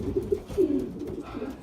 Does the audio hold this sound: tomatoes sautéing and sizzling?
no